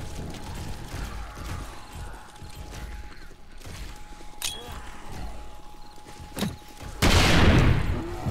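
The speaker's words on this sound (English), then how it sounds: "I want to see if I can toss a grenade from here" A grenade thrown in the zombie survival game 7 Days to Die, modded with Darkness Falls, lands and detonates in a loud, sudden blast near the end, after several seconds of quieter clanks and ambient rumble.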